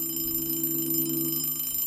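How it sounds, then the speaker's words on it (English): Alarm clock ringing in a steady, continuous electronic tone, loud and unbroken, heard alone with no voices. "The alarm goes off."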